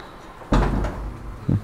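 A door at a home in Pune shuts during dog training, one solid close thud followed by a fainter knock a second later, with no voices.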